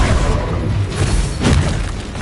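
Confringo fire spell blasts in Hogwarts Legacy, heard as a dense, loud combat roar with a sharper burst near the middle, amid continuous battle noise.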